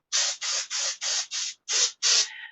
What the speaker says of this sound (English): just spraying to get rid of the smell of cigarettes